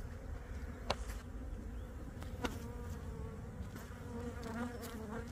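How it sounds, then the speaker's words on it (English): Bees buzz softly in the open air, their hum rising and fading as they drift near and away, with faint outdoor background noise. "The bees are flying."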